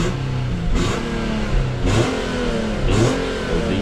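A used V6 car with 238,000 miles runs loudly up close, its engine revving in three swelling bursts over a steady rumbling idle, with no voices.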